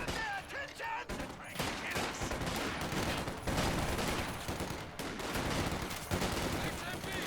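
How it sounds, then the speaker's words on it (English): Heavy .50 cal machine gun fire in a Company of Heroes 2 World Championship match, dense sustained bursts mixed with other battlefield gunfire and explosions, loud and continuous throughout with a commentator's voice faintly underneath. "He's actually going to bring out a 50 cal machine gun of his own."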